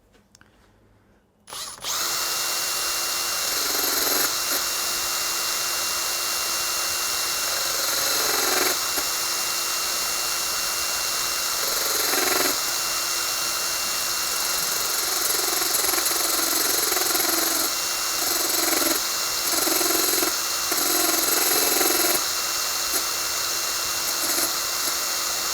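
A powered cutter dresses the valve seats of a Moto Guzzi Le Mans cylinder head, starting after a brief silence and then holding a loud, steady, high whine with slight periodic dips for about twenty-four seconds, with no talking.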